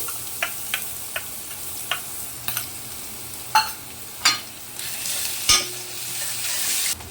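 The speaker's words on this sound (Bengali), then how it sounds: "আমার আদা রসুনটা ভাজা হয়ে গেছে, তেল ছেড়ে দিয়েছে" Green chili, ginger and garlic paste frying in oil, a steady close sizzle punctuated by a series of sharp spoon taps and scrapes against the pan, some louder clacks toward the end, no voices.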